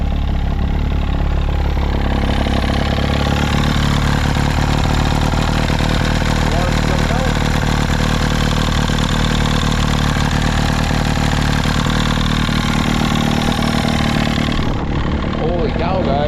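A restored boat's engine idles steadily and loud throughout, a continuous low rumble with a voice speaking over it now and then; the idle tone shifts slightly near the end.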